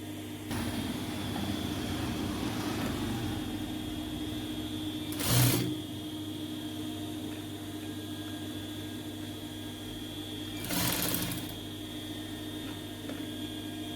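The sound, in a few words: sewing machine stitching a hand design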